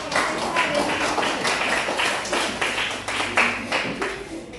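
Classroom applause follows a student presentation on natural and social phenomena, a dense patter of many hands clapping steadily for several seconds at moderate loudness, with no pauses.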